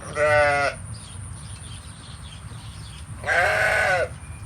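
Sheep in a raised-floor pen on a farm bleat loudly twice, one long close call at the start and another near the end, over a steady background hum.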